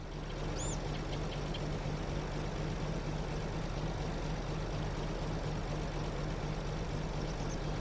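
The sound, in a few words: tractor engine in Farming Simulator 22 video game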